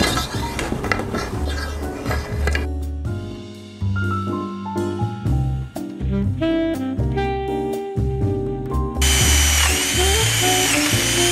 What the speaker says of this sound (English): I drilled my hole and mounted the first wire pin 3 inches back from the end.